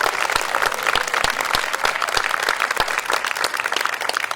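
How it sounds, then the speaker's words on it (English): An audience at an industry panel on AR, VR and MR breaks into a round of applause, a busy, even clatter of many hands with a few sharper individual claps standing out. "could we have a semi-raucous round of applause for the panel?"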